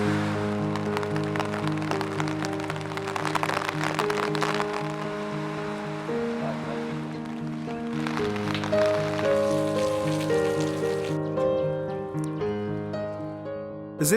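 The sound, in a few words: continuous rain falling in Kullu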